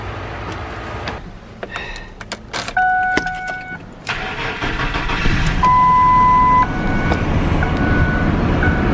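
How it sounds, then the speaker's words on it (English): A truck engine cranks and catches after being jump-started from a dead battery with a Halo Bolt portable jump starter, preceded by clicks and electronic beeps, then settling into a loud, steady idle close by. "the thing just fired the truck right up"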